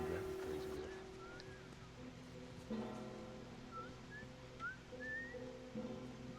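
Joel, a character in the video game The Last of Us Part II, whistles short, faint rising and falling notes over quiet background ambience, while a voice speaks nearby.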